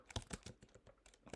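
Fingers tap a computer keyboard in a quick irregular burst of close, quiet key clicks, with no speech over it.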